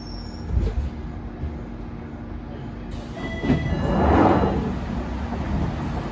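A London Underground Jubilee line train runs between stations, heard from inside the carriage: a steady, close rumble swells into a louder roar with faint wheel squeal.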